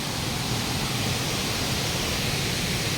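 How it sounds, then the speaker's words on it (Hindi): Duduma waterfall in Odisha thunders in a dense, constant rush of falling water, strong, close and unbroken with no other sounds. "झरणार पानी लास्ट टाइम मु आसती एत जोर पानी हो नथिला ए बहुत जोर पानी बहुची"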